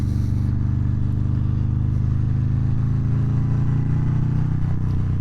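A 2019 Harley-Davidson Fat Bob 117 with a Stage 3 build and 2-into-1 exhaust pulls hard in second gear while riding, a loud, steady, throbbing engine drone with wind rush that holds strong throughout.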